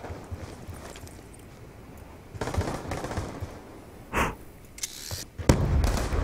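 Bursts of automatic gunfire ring out in a Call of Duty match on the Dig map, rapid crackling volleys that swell and fade over steady background noise, with sharper single cracks near the end and no talk.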